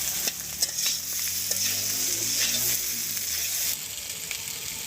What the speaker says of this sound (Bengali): তো আমার পেঁয়াজটা ভাজি হয়ে গেছে, মিশাই দিতেছি।